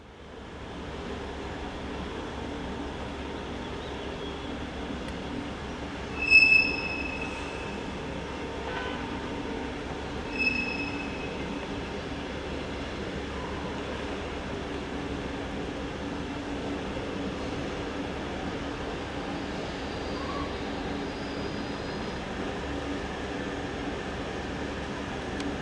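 A Metronom passenger train departs for Hamburg with a class 146 electric locomotive pushing at the rear, giving a steady low rumble and hum throughout, plus a couple of brief squeals and clanks near the start.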